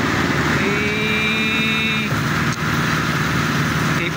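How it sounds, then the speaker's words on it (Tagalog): A truck engine runs loudly nearby on a Zamboanga City roadside, a steady rumbling drone with a brief whine partway through, continuous without pause. "Ang ingay ng truck, master."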